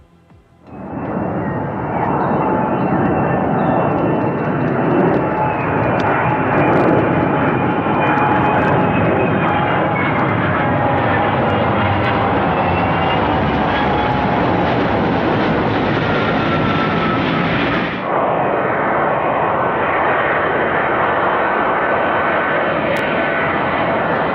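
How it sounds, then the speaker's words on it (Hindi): Loud, steady roar of a Kawasaki EC-2 military aircraft engine, a Japanese military plane, sustained close by for the whole stretch with a brief dip in tone partway through and no voices. "दुनिया के मिलिट्री एयरक्राफ्ट्स के बाजार में ये एक नया विमान आया है"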